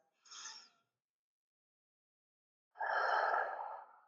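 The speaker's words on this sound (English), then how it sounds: "deep belly breaths" Deep belly breaths, a short inhale followed after a pause by a long, full, slow exhale, close and soft in a quiet room.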